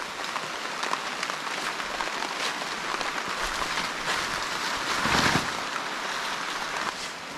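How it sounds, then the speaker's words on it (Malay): Steady rain pours down on a jungle near a hidden cave waterfall, a dense continuous hiss with a brief louder swell partway through and no speech. "So geng, hujan dah turun Dah turun."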